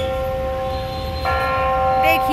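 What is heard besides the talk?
clock tower bell chiming noon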